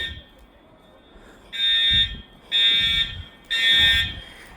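A school fire alarm at Chaparral High School sounds in three loud, harsh buzzing blasts about a second long each, separated by short gaps, echoing outdoors with faint background noise between.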